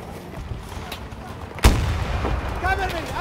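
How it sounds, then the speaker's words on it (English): A single loud blast at about the midpoint as the M5 recoilless rocket fires in Battlefield 2042 Breakthrough, followed by a rumbling tail over steady battlefield ambience, with a fainter shot or two near the end. "We're going to use the M5 rocket here with Angel on this little hill"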